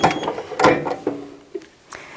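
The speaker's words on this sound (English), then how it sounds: "So all I have to do is lock my heat press down" A heat press is clamped shut with a few clunking mechanical thumps and a ratcheting lever sound, moderately loud and close, with no talk.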